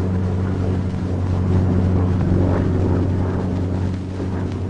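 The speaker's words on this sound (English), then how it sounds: "As the plane starts down the runway, open the throttle with a positive, steady motion." A P-40 Warhawk engine at full throttle during the takeoff run down the runway, a loud steady deep drone with constant low rumble and wind noise throughout.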